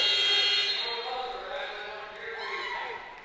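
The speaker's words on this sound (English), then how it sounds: "right at the buzzer as Bowles knocks it down" A loud end-of-quarter buzzer blares in a women's basketball game at Bartels Rody Gymnasium, a sustained harsh tone that fades into crowd noise and talking.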